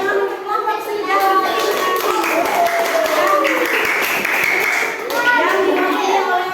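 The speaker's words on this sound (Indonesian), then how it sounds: "Tepuk tangan untuk kelompok senja." Primary school children in a classroom clap for a group, lively uneven clapping mixed with children's voices and chatter, close and fairly loud.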